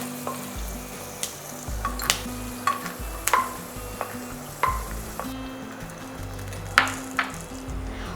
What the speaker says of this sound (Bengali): বাদাম যখন ফাটতে শুরু করেছে ঠিক সেই সময় তুলে নিচ্ছি।